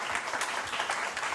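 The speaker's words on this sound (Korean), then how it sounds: "여러분 큰 박수 한번 주시죠." An audience at a Hearthstone esports match applauds, a brief, steady wash of clapping at moderate level with no pause.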